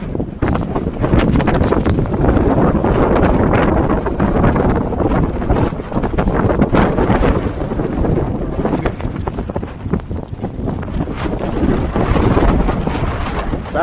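Strong wind roars across a downtown Montreal rooftop during a March snowstorm, a loud, continuous gusting buffet against the microphone with no one speaking.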